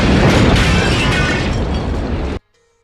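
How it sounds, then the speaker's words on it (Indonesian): A hand grenade goes off in a scene from the RoboCop film as a loud, dense roaring blast that lasts about two seconds and then cuts to near silence. "terjadilah ledakan tersebut"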